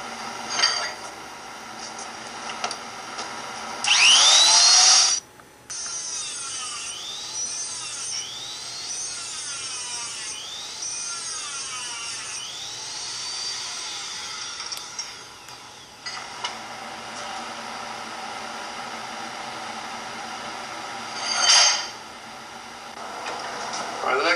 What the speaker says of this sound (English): refining it with a mounted stone and a die grinder